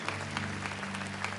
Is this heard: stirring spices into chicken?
no